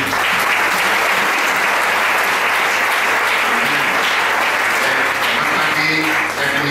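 A church congregation applauding during a worship gathering led by Bishop Elie Lisiki, a loud, dense and sustained burst of clapping that fills the whole stretch without letup.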